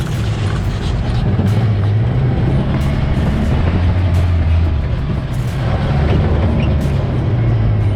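Takeuchi TL12 track loader with a modified exhaust driving, a loud, close, continuous low engine rumble and drone with a shifting pitch, rough and throbbing throughout, without talk.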